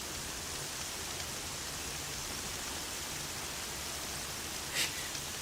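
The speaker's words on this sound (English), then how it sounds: "It's raining." Steady, dense rain pours down in the open world of Horizon Zero Dawn, a constant hiss filling the whole clip with one brief sharper splash near the end and no voices.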